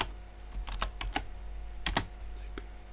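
Keys on a computer keyboard are tapped in short irregular bursts, a handful of close clicks with brief pauses over a quiet room hum.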